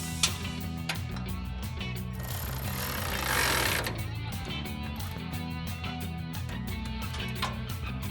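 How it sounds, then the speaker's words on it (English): A RAM 1500 suspension lift kit is installed and its bolts are tightened, heard as a rapid, continuous mechanical rattling and clicking, close and steady, with a brief harsher whirring burst in the middle. "now you can take a 14mm deep socket and a 15mm wrench to hold it together"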